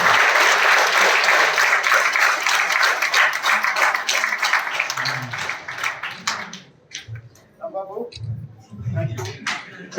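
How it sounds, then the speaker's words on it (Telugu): Loud audience applause erupts at a news event, dense clapping that gradually thins and fades over several seconds as a voice starts speaking over the dying claps. "క్లాప్స్ కొట్టండి అందరూ గట్టిగా ఒకసారి"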